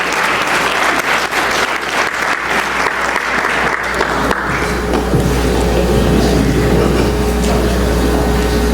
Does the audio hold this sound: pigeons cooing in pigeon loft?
no